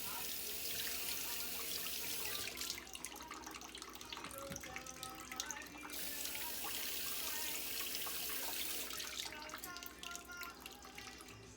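Tap water running and splashing into a sink as produce is rinsed, a steady hissing stream that cuts in and out, fairly faint and close.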